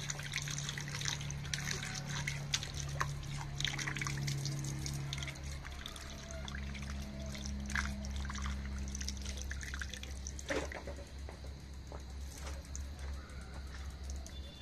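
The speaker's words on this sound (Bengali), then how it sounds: "এটা ভালোভাবে ধুয়ে জল ঝরিয়ে নেব" Water trickles and splashes as raw chicken pieces are washed and drained outdoors in a village setting. Drips and light sloshing continue throughout against a low steady hum, with a few faint bird calls.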